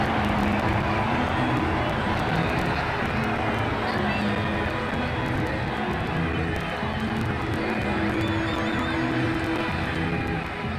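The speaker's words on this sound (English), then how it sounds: "The crowd really enjoyed that one." A stadium crowd in a cricket video game roars and cheers after a boundary, a dense continuous wash of noise held at a steady level throughout, with a commentator's voice over it.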